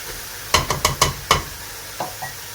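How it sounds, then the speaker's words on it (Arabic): Onion browns in a pan as a utensil scrapes through it in a quick cluster of five strokes, then two softer ones, over a faint background sizzle. "غادي نخلي البصله ديالي تشحر لي واحد شويه"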